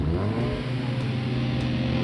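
Performance cars launch off the line in a drag race against a Honda Civic Type R and Audi SQ7, a loud sustained engine roar close by that holds steady and strong with no talking over it.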